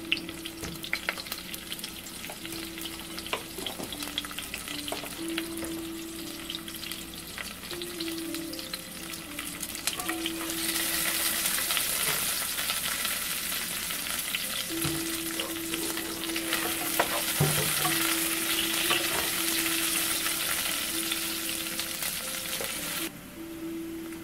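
Onions sizzle steadily in a hot pan with salt added to help them brown, a continuous bright frying hiss that grows louder midway, with a faint steady hum underneath and no talking.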